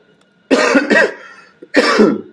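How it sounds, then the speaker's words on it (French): A close, harsh cough fit: two quick rough coughs, a short pause, then another strong cough. "je commence à tousser"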